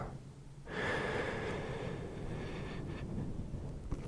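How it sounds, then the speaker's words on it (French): A long, deep breath drawn in slowly during a guided meditation, beginning softly and swelling into a steady, close airy inhale that is held for several seconds without any talk. "Allez, on repart pour la dernière respiration."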